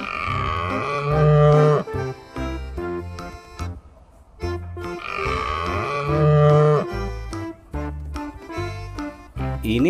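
A longhorn cow lows in long, loud, deep moos, two drawn-out calls with grunting breaks between them, sounding close and filling the scene without any talking.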